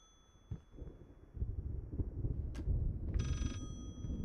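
A telephone ringing in the horror video game Layers of Fear, one brief bright ring burst near the end over low rumbling footsteps and room ambience, no talk.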